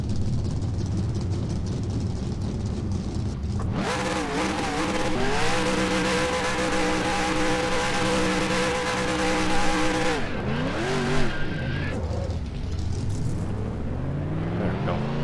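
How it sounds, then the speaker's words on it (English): NASCAR race cars in the NASCAR Racing 2003 video game, driven on the Monza oval: engines rev up from a low idle into loud, steady high-pitched drones with gear shifts and a passing roar, tire squeal near the end. "Drivers, start your engine!"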